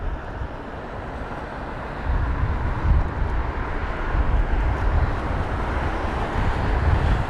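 A Virgin Atlantic Boeing 787-9 Dreamliner rumbles at London Heathrow during Storm Kathleen, a broad steady engine roar that grows slightly louder after the first couple of seconds, mixed with wind.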